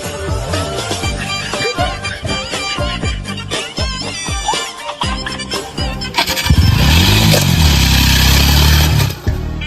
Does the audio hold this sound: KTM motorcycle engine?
yes